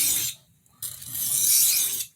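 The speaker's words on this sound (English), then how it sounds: "you'll see me sharpen a pocket knife a lot of times to a much higher grit" A pocket knife blade drawn across a whetstone in two steady gritty strokes, a short one then a longer one, close and clear with a brief pause between.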